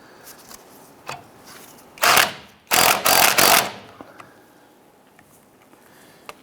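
A ratchet with a 16mm socket tightens the nut on a front sway bar link of a 2002-2008 Dodge Ram 1500, giving one short burst of close clicking and then a longer ratcheting run before quiet.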